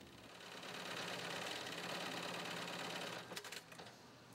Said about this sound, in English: Workers use heavy-duty sewing machines to stitch Velcro and other materials to the BCD.